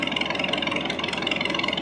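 A 1930 McCormick Deering tractor engine runs steadily and loudly up close, with an even, fast pulsing chug and no voices over it.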